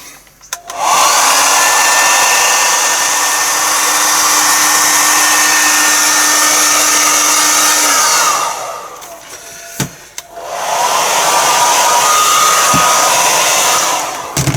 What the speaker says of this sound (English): I'm going to go through this now with the hairdryer, dry it off